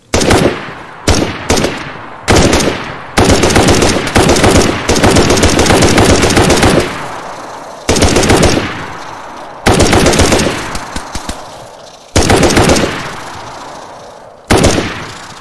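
Video game gunfire on the Barrington map rattles in loud, close automatic bursts, several rapid volleys separated by short pauses, with no talk over it.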